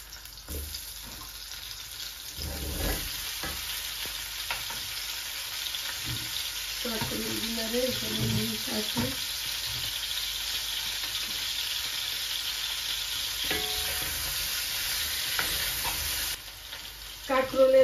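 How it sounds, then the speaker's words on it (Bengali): Eggplant frying in hot oil, a steady soft sizzle with occasional stirring clatter and scraping of the utensil in the pan, moderately quiet and continuous. "বেগুনটারে না একদম তেলে ভাজবো"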